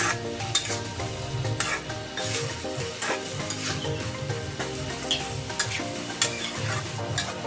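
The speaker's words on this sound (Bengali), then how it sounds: "এখন আমি আলু এড করে দেবো আলুটা আমি সুন্দর করে কষিয়ে নেব" Potatoes sizzle in hot spiced oil while a spoon scrapes and stirs them around a pan as they are sautéed for a bitter gourd and fish curry, a close, continuous frying hiss broken by regular clinks and scrapes.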